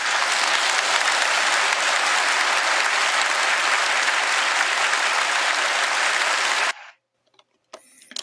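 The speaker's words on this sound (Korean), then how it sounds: "관객이 이제 연극이 끝났구나 하고 박수를 치고." A theatre audience applauding at the end of a play within a film: dense, even clapping from a full crowd that holds steadily for several seconds, then cuts off abruptly into near silence with a faint stray sound.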